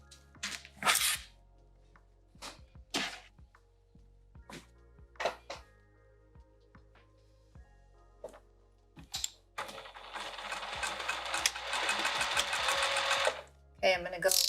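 A sewing machine stitches a bag with piping at normal stitch length, first in short separate runs with clicks and pauses, then in one steady, loud burst of stitching near the end, with a voice talking in between.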